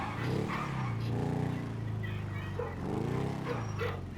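Dogs in Grand Theft Auto V give low, drawn-out barks and growling whines, several swelling calls over a steady engine-like rumble, fairly muffled.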